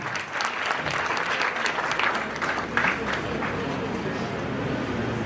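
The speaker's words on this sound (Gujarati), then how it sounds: "આપણે જોરદાર તાળીઓથી વધાવીશું" Loud, sustained applause from an audience at a school award and felicitation ceremony, dense steady clapping with crowd murmur that holds at a constant level throughout.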